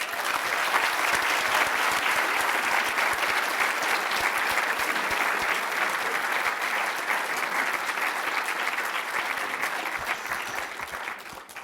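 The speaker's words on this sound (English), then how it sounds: "Let's give him another round of applause." An audience at a legislative breakfast claps loudly and steadily, dense sustained applause filling the room before easing off slightly at the end.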